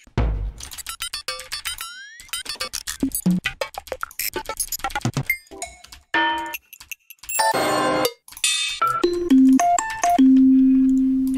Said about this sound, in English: No, I want a bell sound.